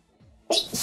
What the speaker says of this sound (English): oh my god, I feel like I'm gonna sneeze